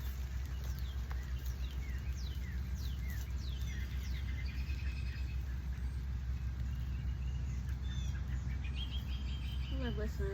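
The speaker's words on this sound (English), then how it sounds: "love listening to the birds." Birds sing outdoors in a garden in spring, with repeated bright chirps and short trilling phrases at moderate distance over a steady background hiss of rain or wind, calls overlapping throughout.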